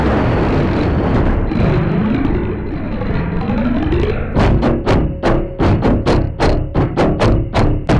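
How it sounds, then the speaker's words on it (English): An experimental drum scraped to make a swirling, wavering resonant drone with shifting ringing tones, then a quick run of sharp, close rhythmic strikes and clatters, loud and with no talk. "Scraping them can be really fun."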